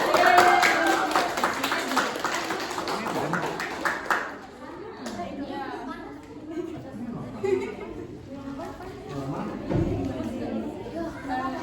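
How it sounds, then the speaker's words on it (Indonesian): A classroom audience claps briefly after a student group's talk show performance, a short burst of close clapping that dies out after a few seconds into chatter, laughter and talking voices. "Terus penampilannya tepuk tangan."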